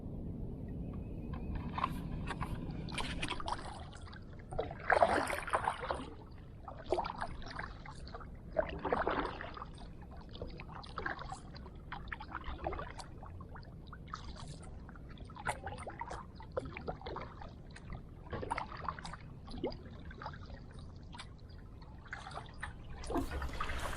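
Paddle strokes from a 16-foot Aquaterra Chinook kayak on Lake Hartwell in February, with repeated splashes and drips as the blade dips and lifts, coming in irregular bursts over a steady background wash, close by and without talk.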